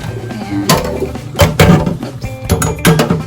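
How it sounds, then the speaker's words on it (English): Cooked noodles for hiyashi chuka being strained, with clattering metal, splashing water and a few sharp knocks of a pot or colander. "So I'm going to strain this."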